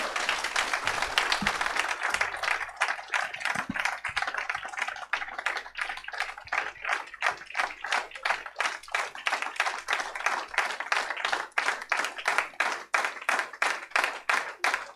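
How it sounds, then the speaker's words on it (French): An audience at a French deputy's 2023 end-of-term evening applauds him, a dense, steady crowd clapping that carries on loudly for the whole stretch with no talk over it. "avec un tonnerre d'applaudissements plus fort que ça quand même"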